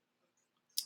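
A single sharp computer mouse click, brief and close, after near silence.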